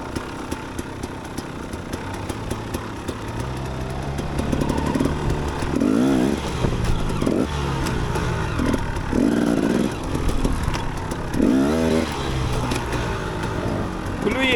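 KTM EXC 250 dirt bike engine running outdoors, a buzzy two-stroke drone that swells louder midway with rising and falling revs, while a voice speaks over it.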